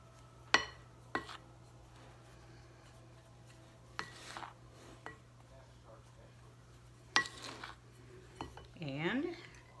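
A spoon knocks and scrapes against a bowl as Spam is mixed into flour, with sparse clinks and rubs heard close, and a voice speaks briefly at the end.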